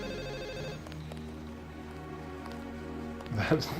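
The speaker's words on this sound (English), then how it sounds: "That phone ringer sound" A telephone rings with a bright, repeating electronic ringer inside the PC game Deus Ex, set in an office; the ringing is strongest at first and then softer, with a short louder burst near the end.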